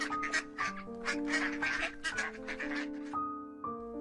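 Cartoon ducks quack repeatedly in a quick, bright series, loud and close against a busy musical background with no talk.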